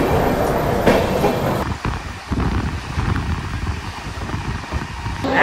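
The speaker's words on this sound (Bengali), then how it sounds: "ট্রেন ছেড়ে দিল।" A passenger train pulls out on the Kolkata-to-Tarapith route and gets underway. A loud, steady rumble of wheels and carriages fills the whole stretch, with clattering rail joints throughout.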